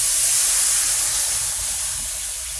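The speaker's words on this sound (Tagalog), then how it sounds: "At ilalagay natin itong pangalawang gata." Coconut milk being poured into a pot of jackfruit and ground pork, giving a steady, close hiss and splash that runs evenly throughout without any talk.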